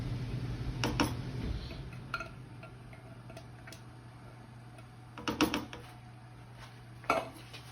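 A utensil scrapes sauce out of a metal can in a home kitchen, giving a few brief clattering, clinking bursts over a low steady hum, with quiet gaps between them.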